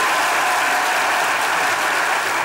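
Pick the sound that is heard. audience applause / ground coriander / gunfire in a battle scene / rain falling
audience applause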